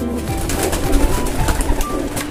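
A racing pigeon that has just flown home to its loft after a 350 km derby race coos repeatedly, with soft throaty calls close by over light background noise.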